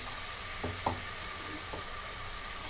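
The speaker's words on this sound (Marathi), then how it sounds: "आता याच्यामध्ये मी आले लसूणची पेस्ट टाकून घेते, 2 चमचे." Ginger-garlic paste frying with browned onion in a pan, a soft steady sizzle with a few brief clinks or stirring taps, no talk.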